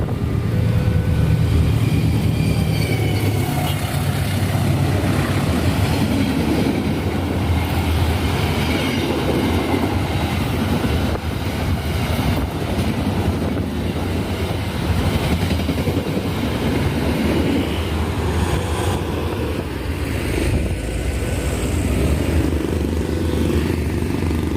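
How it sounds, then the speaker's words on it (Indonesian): A train rumbles steadily past a nearby railway crossing for a long stretch, with a heavy low roar and rhythmic clatter of wheels on rails. "Terus ini keretanya ini lewatnya pun pulang pergi."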